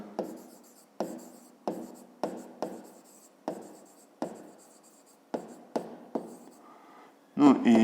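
Pen or chalk writing out the sides of a triangle, a series of about a dozen short, sharp strokes with quick decays, spaced unevenly and close by, ending in a louder burst.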